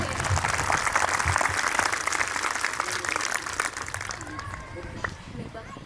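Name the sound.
applause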